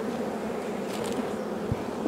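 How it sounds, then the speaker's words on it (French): A honeybee crawls on a camera beside an apiary where queen cells are being raised, giving a close, continuous buzzing drone that carries steadily through the clip without talk. "Il y a une abeille sur la caméra là."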